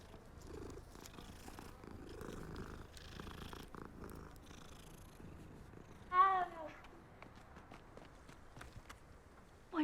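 A cat in the Hogwarts Legacy video game, heard in a small village, purring softly and steadily amid ambient game sounds and faint footsteps, with a brief louder meow-like burst midway.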